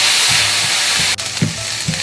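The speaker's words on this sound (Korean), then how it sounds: "다진 양파, 소금, 양파를 잘 볶아주도록 하겠습니다" Chopped onion with salt sautés in plenty of olive oil in a frying pan over medium-low heat, making a loud, continuous sizzle broken by a few soft stirring knocks, with no talking.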